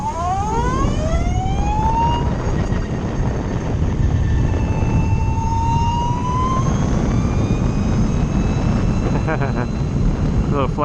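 A Lightning Strike electric motorcycle rated at 90 horsepower and 150 volts passes by. Its high electric whine rises and bends in pitch over a constant roar of wind buffeting the rider.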